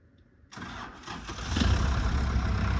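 An old homestead tractor with a faulty ignition switch starts up: the engine catches suddenly, then settles into a steady, close mid-pitched running rumble that grows a little louder, with no speech.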